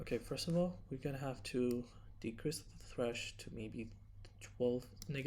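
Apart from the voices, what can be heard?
None of the usual background noises is heard.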